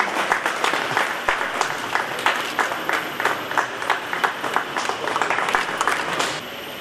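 An audience at a Telangana state road transport corporation accident-free week event claps steadily, a loud, even roll of applause that fades slightly at the end.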